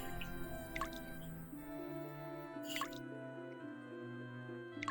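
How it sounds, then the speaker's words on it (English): Water dripping from a leak aboard a spaceship in Wing Commander, three distinct plinking drops spaced about a second or two apart, heard over a steady layered synth music bed. "Also, for some reason, it's leaking water. This is a spaceship."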